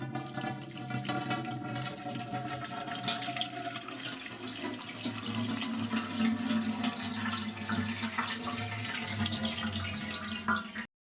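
A steady stream of blackberry and raspberry fruit must pours and splashes into a jug close by, running continuously with faint gurgling until it stops abruptly.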